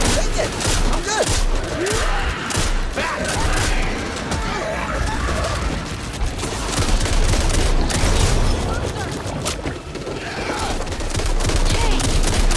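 Shotgun gunfire in the zombie shooter game Back 4 Blood: a dense, continuous barrage of loud blasts and crashes mixed with other weapons, with game voices calling out under the din.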